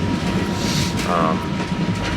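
An overnight train from Hanoi to Saigon in Vietnam rumbles loudly along the rails with a steady roar and faint rhythmic clatter, heard from inside a carriage.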